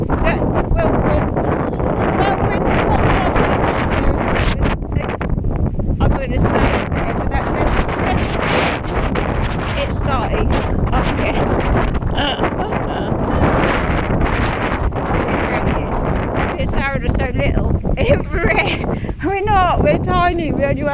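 Gale force wind buffeting a microphone while walking outdoors, a loud continuous roaring rumble with gusty surges throughout, and voices talking faintly underneath.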